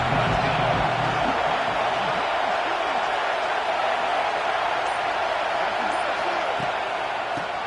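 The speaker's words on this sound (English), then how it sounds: "Here comes the noise from this big crowd in Happy Valley on 3rd down." A big college football stadium crowd in Happy Valley roaring on third down in a Penn State game, a loud continuous wash of cheering noise that holds steady from start to finish.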